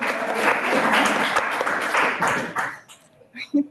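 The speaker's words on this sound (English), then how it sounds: "Let's give your parents a round of applause." Audience applause at an intern symposium: a dense, steady wash of clapping that holds for nearly three seconds before thinning out, with faint voices at the end.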